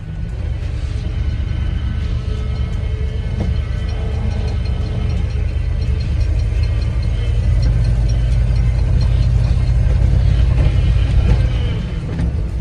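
Chevrolet Cheyenne 4x4 truck driving, its engine a steady loud low rumble and throb throughout, with road and cabin noise and no talk.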